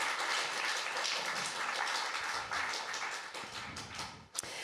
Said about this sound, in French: Vous pouvez les applaudir évidemment tous les trois.